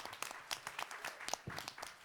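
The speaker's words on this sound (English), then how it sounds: "And let's give them a big round of applause." An audience applauds veterans during a Fourth of July celebration at a delegate assembly; scattered clapping rolls on steadily for a couple of seconds, fairly faint and distant.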